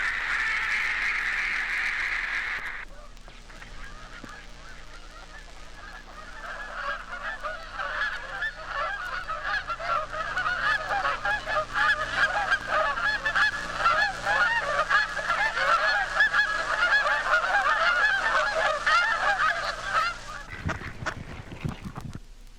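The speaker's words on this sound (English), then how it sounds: "There's nothing more exciting than the sound of wild Canadian geese." Wild Canada geese honking as a flock passes, a dense chorus of overlapping nasal honks that swells and stays loud for most of the stretch, then cuts off abruptly near the end.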